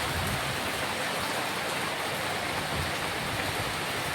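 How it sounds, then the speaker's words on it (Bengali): Steady rain falling outdoors, a dense even hiss holding at a constant level the whole time, with no voices and no separate drops standing out. "বলতে বলতে বৃষ্টি নেমে গেল"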